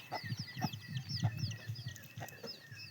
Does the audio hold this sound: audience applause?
no